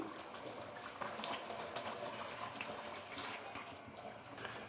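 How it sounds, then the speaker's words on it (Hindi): About a glass of water poured into an aloo chicken curry in a pot makes a soft, steady splashing rush that continues for several seconds, quiet and close, with no voices. "तो अभी मैं इसके अंदर डाल दूंगा 1 गिलास के करीब पानी।"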